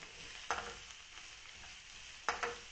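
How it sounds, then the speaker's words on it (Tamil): Carrots sautéing in a pan for prawn and chicken mixed rice, a faint steady sizzle with two brief louder scrapes of stirring. "அப்போ அதை போட்டுட்டு கொஞ்ச நேரம் வதக்குவோம்."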